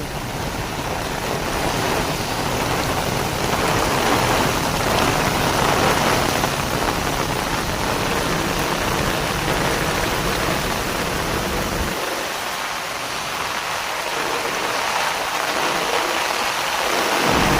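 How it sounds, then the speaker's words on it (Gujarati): A dense, loud downpour hisses continuously while low thunder rumbles swell and fade toward the end, with no voices. "જોઈ લે કેવો વરસાદ પડે"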